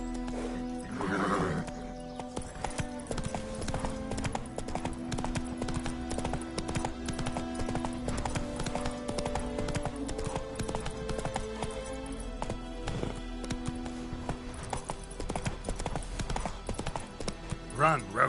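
Roach the horse galloping in The Witcher 3, steady clip-clop hoofbeats running the whole stretch with a brief whinny near the start, set against a dense game soundscape of music and ambience.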